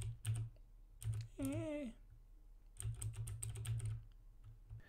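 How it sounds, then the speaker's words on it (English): Keys tapped on a computer keyboard, picked up through a Rode NT-USB microphone: scattered clusters of near, crisp clicks in two bursts, with a brief spoken word between them. "Let's tap some keys."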